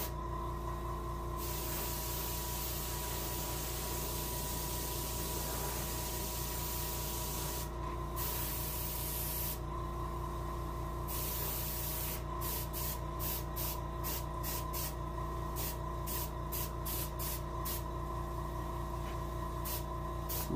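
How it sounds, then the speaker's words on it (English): An airbrush or spray gun hisses steadily as paint is applied to a brown bullhead catfish mount for taxidermy, with a continuous spray broken by short bursts and quick on-off pulses near the end. "A little bit of angle spray helps."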